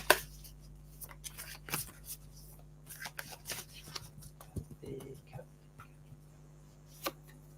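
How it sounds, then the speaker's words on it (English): Oracle cards shuffled and drawn by hand during a card reading, a string of soft papery riffles and flicks with sharp taps, close and quiet, with a low steady hum underneath. "I'm just going to pick from the Work Your Light card, Kathy."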